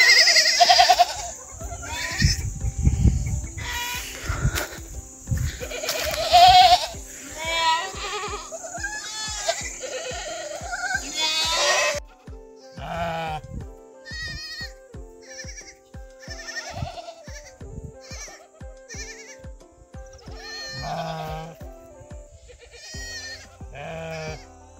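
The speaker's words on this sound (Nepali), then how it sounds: "आफ्नो बच्चा खोज्दै आइपुगेछ यहाँ वनमा चढ्न गएको बाख्रा" A nanny goat that climbed up into the forest bleats repeatedly while searching for her kid, the loud, quavering calls coming in a steady series through the first half and then more sparsely, alongside other farm noise outdoors.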